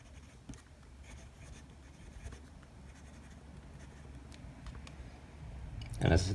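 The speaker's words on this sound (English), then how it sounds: "So there's a tiny bit of feedback on this nib." Fountain pen with a medium nib writing on plain 80 gram Rhodia paper, giving a soft, steady scratching under low room noise, ending in a brief louder knock.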